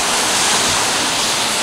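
Heavy rain pours in a New Orleans cemetery, a loud, dense, steady hiss with no one talking.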